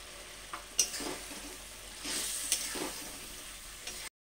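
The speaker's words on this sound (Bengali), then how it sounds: "সময় 2 চামচ মতো আমি তেল দিয়ে দিচ্ছি।" Oil sizzles in a pan while green pea ghugni is being made, a fairly faint hiss that swells in short bursts with light clinks of a utensil, then cuts to silence.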